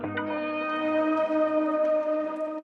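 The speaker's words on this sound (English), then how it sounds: "Huge anthem gong thing." A gong accent sample: a rich metallic gong-like tone with shimmering overtones rings steadily for a couple of seconds, then cuts off abruptly.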